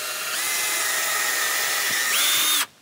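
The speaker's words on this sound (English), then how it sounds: "So I'm going to place" A power drill boring a hole in a wooden board for a greenhouse wall on a homestead, a close, loud, steady whine that rises in pitch near the end before stopping abruptly.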